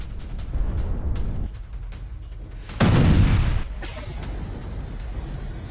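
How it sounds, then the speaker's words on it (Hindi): A mortar strike sets off an explosion in a Russian tank in war news footage, heard as a heavy muffled boom that swells suddenly midway and then fades into distant rumbling. "यूक्रेन के मोर्टार अटैक से टैंक में हुआ है बड़ा धमाका।"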